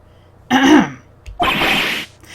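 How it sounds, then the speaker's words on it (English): Two short, raspy throat-clearing bursts in the video game Phoenix Wright, close and fairly loud, separated by a brief pause, with no talking. "Maybe I should clear my throat?"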